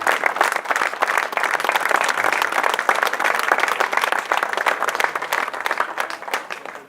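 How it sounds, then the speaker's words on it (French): Steady audience applause at a rose exhibition award ceremony in Grasse, with dense, continuous clapping at a moderate level that fades briefly at the very end. "je vous propose qu'on vous applaudisse parce que vous avez fait grand"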